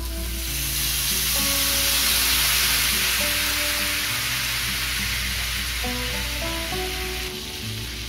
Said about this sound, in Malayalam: ചെറുനാരങ്ങ നീര് ഒഴിച്ചു കൊടുക്കാം.